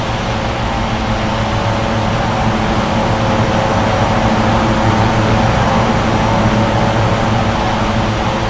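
Jet aircraft rolling for takeoff from runway 20 at Bengaluru airport in India, a steady, loud engine roar holding constant throughout with no gaps or voices.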